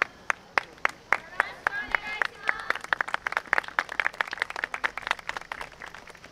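Rhythmic, steady hand claps from an audience keeping time at a YOSAKOI Soran dance stage performance by a university women's team at a Harajuku Omotesando festival, starting sparse and quickly thickening into dense, lively clapping.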